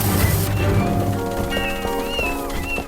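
Kittens meow in a Wallace and Gromit animation scene with nuns and ducks, a few high mewing calls over a busy backdrop of music and comic noise, fairly close.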